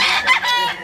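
A young rooster, a stag under a year old, crows nearby, a short loud burst that rises and falls within about a second.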